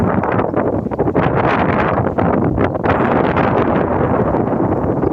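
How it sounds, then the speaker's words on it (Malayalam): Strong, continuous wind on the Theruvamala and Chathamangalam hilltops in Kannur, Kerala, roars and buffets the microphone, loud and gusty throughout, with a faint rustle underneath. "ഒന്നൊന്നര കാറ്റാണ് ഇവിടുത്തെ കാറ്റ്."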